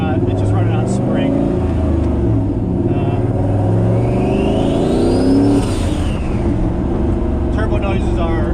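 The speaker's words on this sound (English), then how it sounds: "Turbo noises are extra loud in the car with the motor sitting right behind you" A turbocharged LS-swapped Lamborghini Murciélago, its engine sitting right behind the cabin, rumbles and revs loudly from inside the car while a rising-and-falling turbo whistle sweeps up and back down in the middle.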